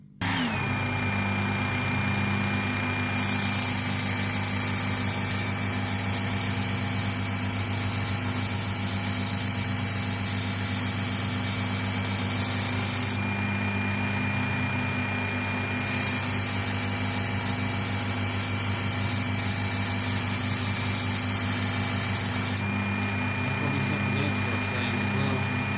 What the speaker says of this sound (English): because it's going to grind away a lot of knife.